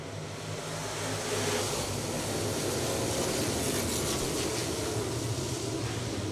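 Street stock race cars roar around Cherokee Speedway during a feature event, a dense, steady wash of engine noise from a pack of cars that swells slightly as they pass, heard from a distance without talk.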